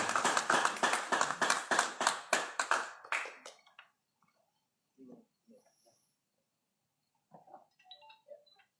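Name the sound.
audience applause at a press conference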